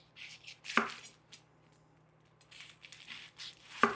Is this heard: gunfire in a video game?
no